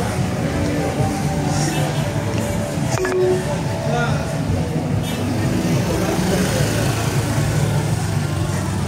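Motorbike traffic on a busy street in Kuta, Bali: a continuous loud engine drone and idling rumble from nearby motorbikes filling the whole stretch, with a brief rattle partway through, under occasional talk.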